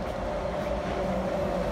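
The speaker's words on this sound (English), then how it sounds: "here comes the train right now" A SkyTrain arriving at 24th Street Station fills the platform with a steady, continuous rumble and hum, with no voices.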